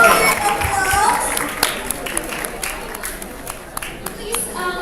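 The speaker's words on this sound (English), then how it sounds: "Everyone, applause." Audience clapping at an alumni meeting, a scattered crowd of hands applauding steadily for several seconds, with voices chattering underneath.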